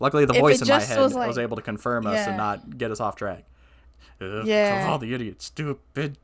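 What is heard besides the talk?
None of the usual background noises is heard.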